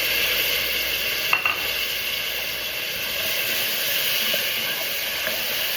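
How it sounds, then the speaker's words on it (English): Ceci beans sizzle steadily in a pan with garlic and celery, a continuous loud hiss with a brief clatter early on. "I'm gonna put the Ceci beans in."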